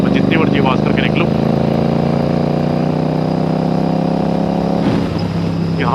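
A Royal Enfield Super Meteor 650 motorcycle fitted with a Rhino Racing aftermarket exhaust runs loud and close. Its deep, steady engine rumble and exhaust drone continue throughout, rising slightly in pitch as it is revved.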